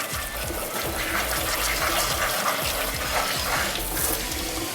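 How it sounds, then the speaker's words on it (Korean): Steamed songpyeon rice cakes rinsed under cold running water, a steady close gush of tap water splashing over them for the whole stretch, with no talking. "다 찐 송편은 곧바로 찬물 샤워를 한번 해줘요."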